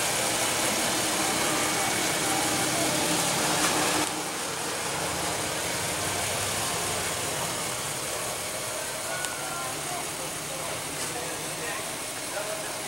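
A 2015 Infiniti QX70 with a 3.7 L V6 idles in a steady, even low rumble beneath a continuous broadband hiss, holding constant for the whole stretch.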